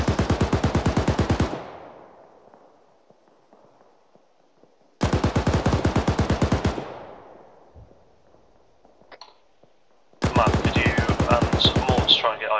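Rapid automatic gunfire in the military video game Arma 3, three loud close bursts of fast rattling shots separated by short quiet gaps with fading echoes, a voice briefly heard at the end.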